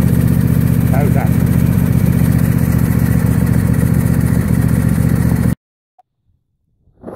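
John Deere X155R riding lawn tractor engine running steadily, loud and close with a constant low mechanical drone and a voice under it, then cutting off abruptly into near silence.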